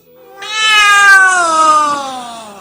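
A single drawn-out cat meow used as a sound effect in a Christmas nativity play, loud and close, rising then slowly falling in pitch over about two seconds with no talk around it.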